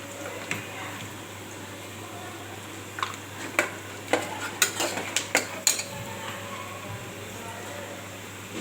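Peanuts frying and being stirred in a pan for khichdi-style Maggi, heard as a steady low sizzle with a cluster of sharp clinks and scrapes of a spoon against metal in the middle, fairly close.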